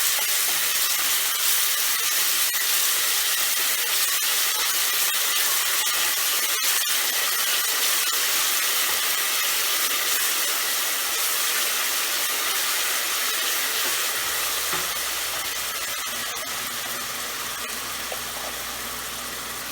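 Finely chopped onion sizzling loudly in hot oil with cumin seed and a pinch of asafoetida, a dense, steady frying hiss that fills the whole stretch and eases slightly toward the end, close up and without talking.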